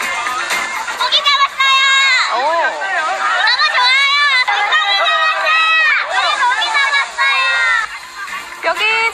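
Children and families playing in the water at a waterfall farm resort shout and cheer loudly and excitedly, a dense, continuous chorus of high young voices with chatter mixed in.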